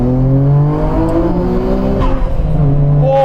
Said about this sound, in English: So we should probably downshift and see how this power feels.